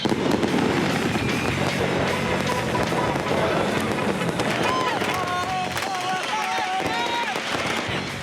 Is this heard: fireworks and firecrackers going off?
yes